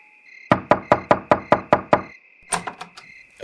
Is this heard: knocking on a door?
yes